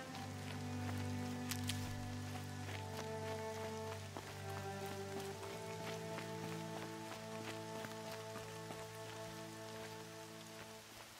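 Steady rain falls in the video game Horizon Zero Dawn, a continuous hiss of drops spattering on surfaces, with sustained low tonal music droning underneath throughout.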